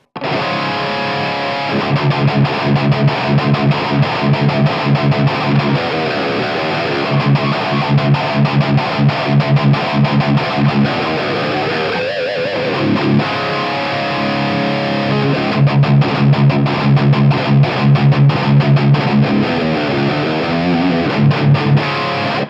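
Dense, heavily distorted electric guitar through an Engl Fireball distortion pedal set tight, playing chugging palm-muted riffs with short rhythmic stabs, loud and saturated throughout with no pauses.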